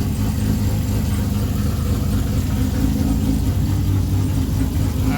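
A nearly new motorcycle with about 3,000 miles on it idles steadily after start-up, a continuous low rumble holding even and close for the whole stretch with no talk over it.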